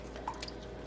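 Buttermilk drips and trickles as freshly churned butter is pressed, a few soft wet drips and a faint squish over a quiet background hum.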